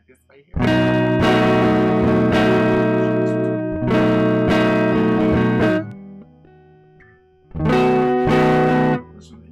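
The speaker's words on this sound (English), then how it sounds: "Let's go to the inside chords. It sounds like this right here." Electric guitar strums inside chords through effects such as distortion and reverb, three sustained ringing chord passages with a short gap between the second and third, loud and alone.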